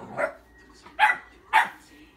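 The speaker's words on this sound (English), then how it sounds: "I put a balloon down there so that's what he's barking at" A dog barks three times at a balloon, sharp and close, with short pauses between the barks.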